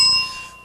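A game show bell rings once, a bright sustained ding with steady overtones that fades away within a second, heard alone.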